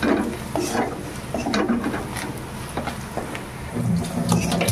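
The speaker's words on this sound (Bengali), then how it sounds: "এবার মশলাটাকে একটু ভেজে নেব।" Turmeric and ground cumin-coriander are stirred and fried in oil in a pan, scraping stirs and soft sizzling crackle up close in irregular bursts, with no voices.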